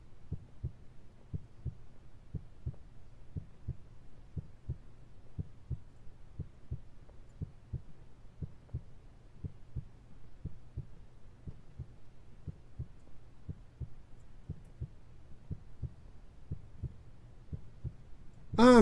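Video game heartbeat, a soft and even low thumping that keeps a steady quick pulse throughout, alone against a near-silent background.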